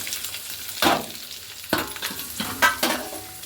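Green chillies frying in oil in a non-stick pan, a soft steady sizzle with three sharp scraping stirs of a spatula spaced about a second apart, close and fairly quiet.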